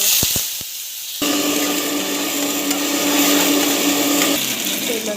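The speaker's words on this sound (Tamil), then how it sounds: "நம்ம வந்து கொத்தமல்லி அண்ட் தென் டமாட்டோ ரெண்டுத்தையும் போட்டு வந்து அரைச்சிருக்கிறோம்" A blender grinds coriander and tomato, its motor starting after a few short knocks and then running as a loud, steady whir before it winds down near the end.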